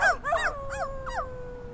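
Dogs howling in a video game, a short run of rising and falling yelping howls that settles into one long drawn-out tone, fairly close and clear, with no talking.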